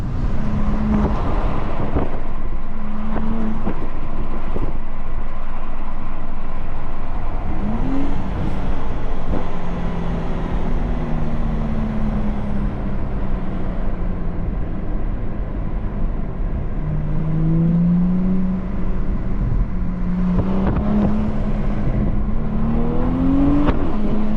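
A 2024 Porsche Panamera 4S driven hard with paddle shifts: a loud, steady engine and exhaust drone rising and falling in pitch through gear changes, with occasional sharp pops standing out against the constant road roar.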